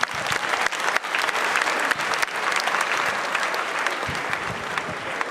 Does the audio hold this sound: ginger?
no